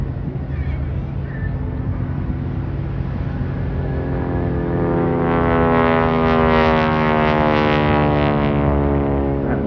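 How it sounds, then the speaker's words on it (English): North American Harvard trainer with a radial engine making a low pass at the Blackpool air show, its propeller tips going supersonic into a loud, rasping bark that swells steadily and stays close, with no talk over it. "That noise you hear, Harvard bark is called, is the very tip top of the propeller going supersonic."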